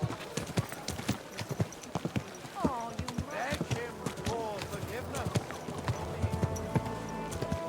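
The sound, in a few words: horse hooves clip-clopping, video game Kingdom Come: Deliverance II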